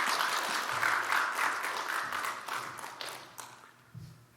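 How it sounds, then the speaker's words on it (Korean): A church congregation applauds to welcome a visiting missionary speaker to a morning service: dense, steady clapping from many hands that swells early and slowly thins toward the end, with no talking over it. "나오실 때 박수로 환영하도록 하겠습니다"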